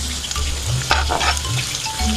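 Chayote sizzles and crackles loudly in a hot pan, a steady frying hiss with intermittent stirring scrapes, close and continuous throughout, no voices.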